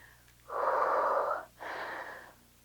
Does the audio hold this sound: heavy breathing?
yes